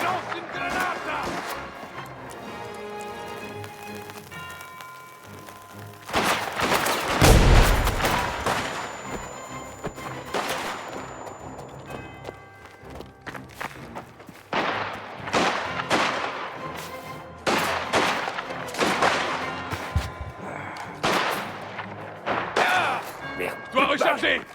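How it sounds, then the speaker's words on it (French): Grenade explosion and gunfire in the video game Mafia: The Old Country, with a heavy boom followed by irregular bursts of shots and impacts over game music, and someone speaking in French. "Lance une grenade!"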